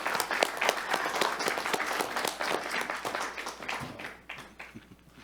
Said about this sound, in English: let's all give applause for our veterans